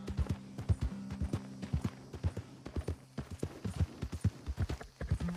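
A horse's hooves clip-clop in a steady walking rhythm in Red Dead Redemption 2, close and fairly quiet, with a low engine-like hum beneath.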